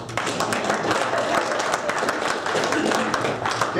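Lunch audience at a Hardrocker luncheon clapping to welcome Kelvin, a steady wash of many hands at moderate loudness, with some crowd murmur mixed in.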